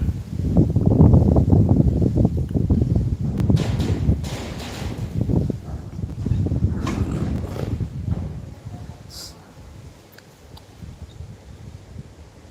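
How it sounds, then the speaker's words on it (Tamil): Wind gusts roar and buffet across an outdoor microphone, strong at first and easing toward the end, with rustling and faint bumps and no speech. "வா காற்று என்னம்மா அடிக்க"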